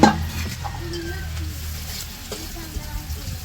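Spices stir-fry in oil in a village kitchen pan for a chickpea curry, a close continuous sizzle broken by scraping stirs and a few clinks, with faint background voices.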